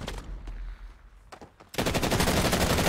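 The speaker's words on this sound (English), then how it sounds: "that shot was fucking nuts" Gunfire in Call of Duty Warzone: a few distant sharp shots and cracks, then a sudden loud burst of rapid, dense firing that continues to the end.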